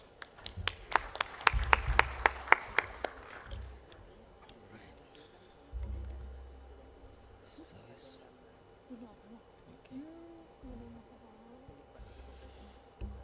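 A conference audience gives scattered applause for a speaker: a few seconds of thin, nearby clapping that quickly trails off, then quiet room noise with faint talking and shuffling.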